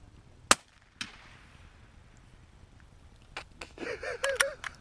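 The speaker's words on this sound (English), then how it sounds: "It's fun shooting stuff, isn't it?" Two sharp gunshots crack outdoors at a cow feeder target, one sharp report and then a second softer one about half a second later, followed by faint distant voices talking.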